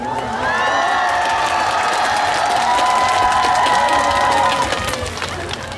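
An audience at the 50th Uiryeong Hongui Janggun Festival concert claps and cheers in a sustained wash of crowd noise, with whistles and shouts ringing above it.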